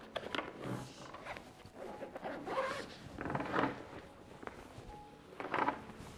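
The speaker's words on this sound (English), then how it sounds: "So it has 2 zippers here, so we'll open them both up." Both zippers of a Bellroy Venture 26L backpack are pulled open around its clamshell, giving several close, scratchy zipping runs with short pauses between strokes and no talking.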